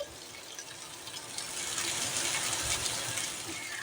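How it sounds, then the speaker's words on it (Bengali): Hot water pours into a pan of watermelon-rind vegetable curry, making a steady gushing, splashing sound that swells after the first second and then holds on. It is faint and heard alone, with no talking. "গরম জলটা এটাতে একটু ঢেলে দিলাম"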